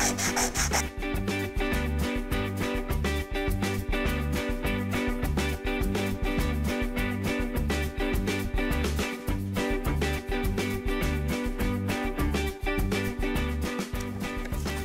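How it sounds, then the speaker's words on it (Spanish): Sandpaper rubs a brass sheet pendant in one direction, a close, continuous rasping scrape with a rapid, even back-and-forth rhythm that runs unbroken throughout. "Pero pues sí es recomendable lijarla en una sola dirección, ya que si lo hacemos de varias direcciones rayamos la pieza."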